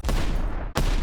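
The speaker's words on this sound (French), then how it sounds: "Il y a ces canons qui tirent vraiment" A LEGO pirate ship's toy cannon fires a piece, giving a sharp snap followed by a short rattling burst, then a second quick snap near the end; no one speaks.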